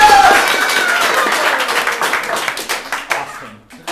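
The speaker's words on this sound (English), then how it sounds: "Clap your hands if you've been here before." An audience at the Hideout Theater improv show claps in a dense burst of applause that tapers off over a few seconds, with a voice heard briefly at the start.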